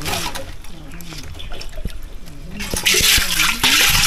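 Water draining out of a tank during a village communal feast, gurgling and splashing under brief talk, then surging into a louder rushing gush near the end.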